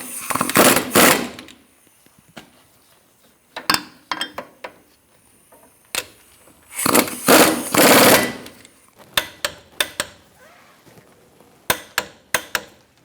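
Brake caliper bracket bolts being snugged on a 2005-2010 Chrysler 300 rear brake job, heard as sharp bursts of rapid ratcheting and metallic clanks separated by short pauses, close and loud.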